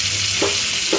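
Food frying in a pan, a steady bright sizzle with two brief stirring scrapes about half a second apart, close and alone.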